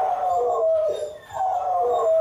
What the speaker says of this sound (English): Definitely howling, he's barking, which is symptoms of separation anxiety.